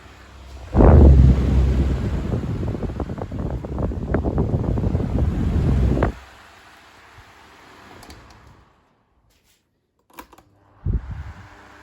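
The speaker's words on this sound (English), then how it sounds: "High on the 2003. Noisy, but does produce a strong breeze." A 2003 12-inch desk fan running on its high setting gives a loud, rushing, fluttering blast of air for about five seconds, then cuts off abruptly, leaving near silence and a couple of brief knocks.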